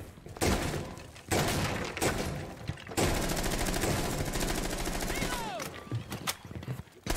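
Rapid automatic bursts from an MP5K submachine gun in Rainbow Six Siege, loud repeated volleys with short pauses between them and game effects layered over the firing.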